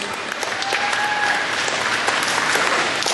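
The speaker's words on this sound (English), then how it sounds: "Give them a round of applause, please." Dense, steady audience applause fills a county fair hypnosis show, a loud wash of many hands clapping at once with no talk over it, holding evenly throughout.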